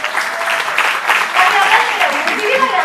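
Applause from the audience at a gala of the Tuna Femenina de Medicina de Valencia, a sustained crowd clapping in a hall with a voice speaking over it.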